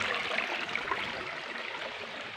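Water pours steadily at Thalaiyuthu waterfall, a soft continuous rushing hiss without pauses, fairly faint and alone.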